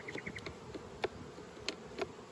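Honey bees buzz steadily inside a Flow Hive brood box as a nucleus colony is settled in. The hum is quiet and continuous, with a few brief louder passes from bees flying close.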